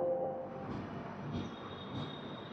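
An Intercity Express train pulls away from Bellampalli station, a steady low rumble of moving carriages with faint high tonal whines above it, heard from on board.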